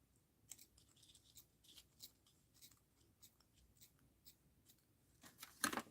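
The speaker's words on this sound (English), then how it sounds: "So let's snip that in half." Scissors cut paper with a run of quick, faint snips and crisp rustles, closing in a louder, sharper cut, heard close and quiet without any voices.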